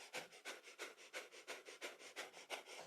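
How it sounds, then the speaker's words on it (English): Rapid, rhythmic breath of fire panting during a kundalini yoga posture, about a dozen sharp, even nasal exhalations in steady pulse, close and soft with no talking. "So breath of fire is our panting breath."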